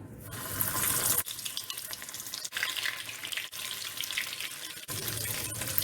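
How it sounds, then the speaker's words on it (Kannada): Battered prawns for Japanese-style tempura slide into hot oil to deep-fry, giving a loud, steady hissing sizzle that runs throughout with a few brief dips, and no voices. "ಎಣ್ಣೆ ಬಿಸಿಯಾಗಿದೆ, ಒಂದೊಂದೇ ಹಾಕ್ಕೊಳ್ಳೋಣ."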